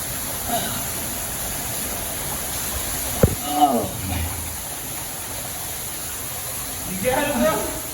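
Rushing water from a stream and waterfall inside a cave gives a steady, loud broadband roar throughout, with people's voices and exclamations breaking through in short bursts over it.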